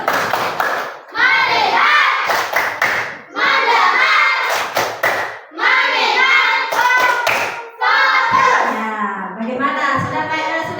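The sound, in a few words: teachers doing a focus clap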